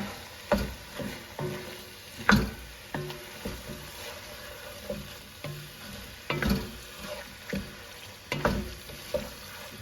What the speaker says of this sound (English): We're going to stir this into our meat mixture